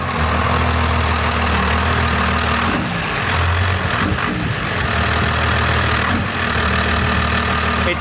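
A 33-year-old diesel pickup engine idling after its timing was advanced, a loud, steady, close diesel clatter and rumble holding for several seconds with a slight wavering in the middle.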